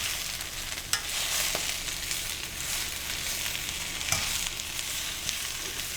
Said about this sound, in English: So we want to wilt the spinach,